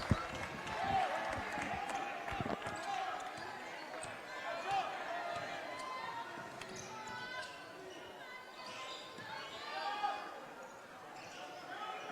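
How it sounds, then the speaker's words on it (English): A home crowd in a gym at a high school boys basketball game between Wenatchee and Moses Lake applauds a player being substituted out, steady clapping and cheers under a play-by-play announcer talking throughout, with ball bounces mixed in. "he'll replace Carlson in the lineup, who gets a big hand from this Wenatchee crowd"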